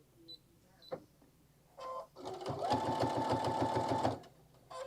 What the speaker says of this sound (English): you could do all those different little box stitches with that directional sewing